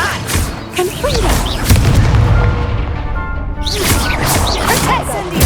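Booming magical blasts of the Confringo spell in Hogwarts Legacy, heavy crashing impacts mixed with whooshing spell effects, loud and repeated across the scene.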